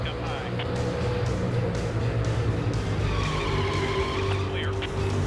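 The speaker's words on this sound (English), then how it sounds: "Car sliding." A 2001 NASCAR stock car slides with tyres skidding and squealing through a steady roar of racing engines, under continuous commentary voices.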